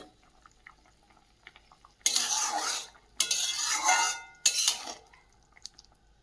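A metal pot lid clatters and scrapes over a simmering potato and brahmi-greens curry in three loud, close bursts, with quiet kitchen sounds in between.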